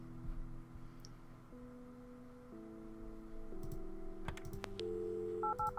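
Telephone dialing inside the Kathy Rain adventure game, a string of short tonal beeps stepping through different pitches over a steady background music bed, ending in quick repeated tone blips.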